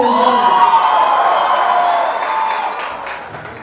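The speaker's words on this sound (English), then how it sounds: "Can we all have a loud cheer from the audience," A college fest crowd at Thakur College cheers loudly with whoops, shouts and clapping, the roar starting at full strength and gradually fading over a few seconds.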